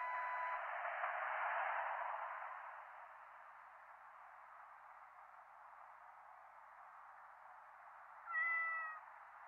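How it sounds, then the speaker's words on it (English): In the 911 Operator video game, a single short cat meow rises near the end over a steady hiss of phone-line static. "My cat climbed up a tree and can't go down."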